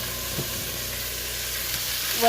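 Oxtails browning in a hot pan give a steady, close sizzle of frying fat that runs unbroken throughout, with a faint clatter of tongs near the end.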